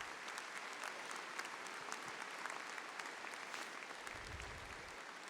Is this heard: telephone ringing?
no